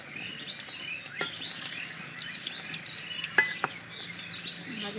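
Cauliflower samosas frying in oil give a soft, steady sizzle, with occasional sharp clinks of a utensil against the pan as they are turned.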